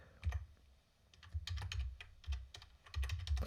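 Soft, close keyboard typing in short bursts as a name is entered for a track in MPC Beats, irregular clusters of clicks over a low rumbling background.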